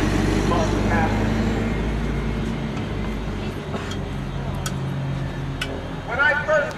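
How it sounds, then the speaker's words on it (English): A bus passes on a city street during an outdoor protest, a steady low engine rumble that holds for several seconds and then eases, with voices and crowd noise around it. "After this bus passes."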